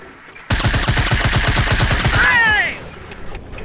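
Rapid automatic gunfire in Fortnite, a loud close burst of evenly spaced shots lasting about two seconds, ending in a whistling, rising tail before quieter game noise takes over.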